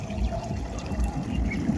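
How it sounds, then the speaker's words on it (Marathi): Heavy rainwater runs along a road and on into farm fields with a steady, fairly close rushing and gurgling flow and no voices over it. "रस्त्याहून हे बघा एवढं पाणी वाहते जणू काय कोणी मोटरचं एखादं पाणी सोडल्यासारखं एवढं पाणी वाहते"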